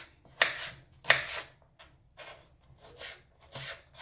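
A knife slices through potatoes on a board for a sausage casserole, with two sharp cuts followed by softer, uneven strokes, close and fairly quiet.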